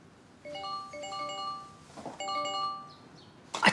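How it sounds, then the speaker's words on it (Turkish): A mobile phone rings with repeated bursts of a bright melodic electronic ringtone, in two phrases separated by a short pause, fairly faint indoors with a muffled clunk at the end. "Telefonu çalıyor."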